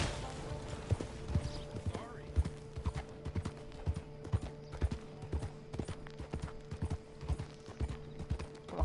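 Horse hooves clip-clopping steadily in Red Dead Redemption 2, rhythmic mid-distance hoofbeats with faint creaks of tack and a sustained background tone, alone without voices.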